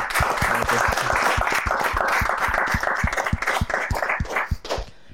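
Crowd applause for the winner of an MMA main event at a post-fight press conference, dense steady clapping from many hands that thins and fades toward the end.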